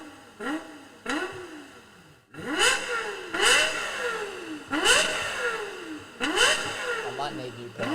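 A race car engine revs in a run of about six sharp rising-and-falling bursts, loud and close, played back from a recording while people talk over it.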